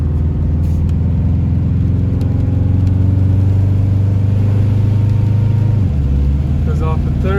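A 1990s Subaru engine with an automatic transmission hums steadily under acceleration, then drops pitch at a gear shift, heard from inside the car with someone talking over it.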